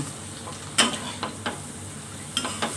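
Snow peas and clams are stir-fried in a pan over low heat, a steady sizzle broken by several sharp scrapes and clinks of the utensil against the pan, close and alone without talk.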